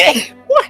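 A single quick sneeze during a tabletop role-playing game session, followed moments later by a short spoken word.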